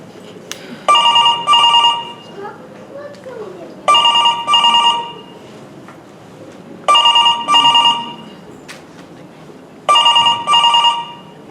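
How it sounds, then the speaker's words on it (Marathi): An old-style telephone bell rings in repeated double bursts, four rings spaced a few seconds apart, loud and close on a stage during a Marathi mystery play, with quieter background sound between rings. "साहेब साहेब, अहो फोन वाजतोय"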